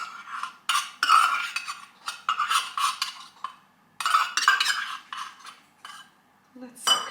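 A utensil stirs condensed milk and vanilla in a bowl for a salted caramel apple crumble, giving close, irregular bursts of scraping and clinking that come in quick clusters with short pauses.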